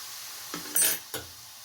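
Vegetables fry in a pan for vegetable idli, a soft sizzle under two or three quick spoon scrapes and stirring clinks close by.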